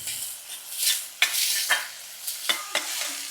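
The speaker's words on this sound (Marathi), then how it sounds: "आणि सुरुवातीला आपण हा कांदा थोडा नरम करून घेऊया" Finely chopped onion sautés in a pan, a soft continuous sizzle broken by several sharp scrapes and clinks of a spoon stirring against the metal, close by with no talk.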